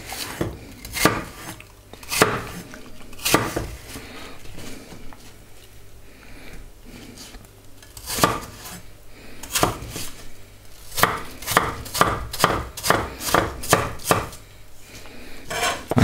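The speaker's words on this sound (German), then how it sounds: "Ich schneide jetzt die Äpfel erstmal zu Ende" A knife chops through apples on a cutting board in crisp, irregular strokes, starting sparse and settling into a quicker, steady rhythm toward the end.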